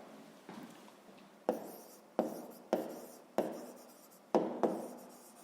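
A pen scratches out figures by hand on paper during a fifth-grade maths exercise, a run of short rhythmic strokes, each starting with a crisp tap and fading, close and alone.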